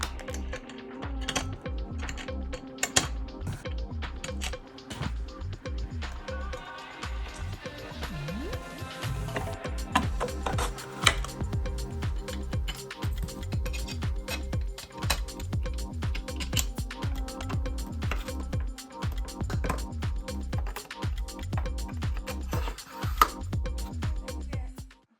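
Rapid, steady clicking and ratcheting of a power driver running machine screws into the stands of a 98-inch TCL QM7 Mini LED TV, continuous close mechanical whirring and ticking with faint voice in the background.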